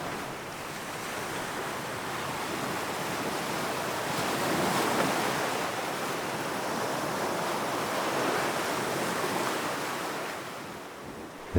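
Sea waves wash steadily over rocks in a continuous loud rushing surge, swelling and easing in gentle crescendos as water slips through gaps, with no voices.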